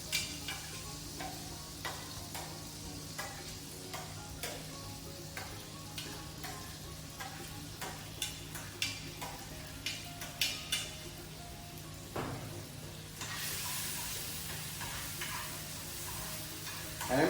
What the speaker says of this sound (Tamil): சிறு துண்டுகளாக வெட்டப்பட்ட உருளைக்கிழங்க கொஞ்சம் வதக்கி